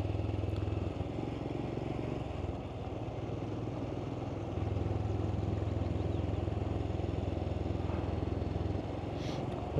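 A Royal Enfield Scram motorcycle riding on the Llyn Peninsula, a steady, continuous engine drone with a slight shift in pitch and loudness midway, heard without talk.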